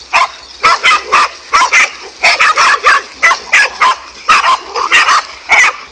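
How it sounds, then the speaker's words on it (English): A pack of five dogs fighting a king cobra, barking and yelping loudly in rapid repeated bursts, close and continuous throughout with no talk. "this king cobra managed to get in trouble with a pack of five dogs"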